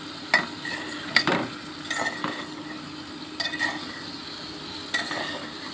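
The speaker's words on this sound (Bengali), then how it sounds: "এবার ভালোভাবে নেড়ে চেড়ে কষে নিলাম।" Potatoes and spices being stirred and fried in a pan, with intermittent spatula scrapes and clinks against metal over a soft background sizzle, at a moderate distance.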